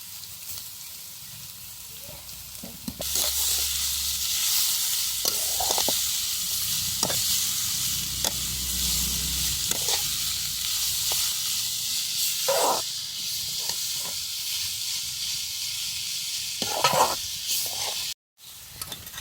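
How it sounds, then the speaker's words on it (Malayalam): Raw papaya hits a hot pan with a sudden loud hiss, then keeps sizzling as it is stir-fried. Scattered scrapes and clicks from stirring break in, and the hiss stops abruptly near the end. "നമുക്ക് ഇതിലേക്ക് ഓമക്കായ ചേർത്ത് കൊടുക്കാം"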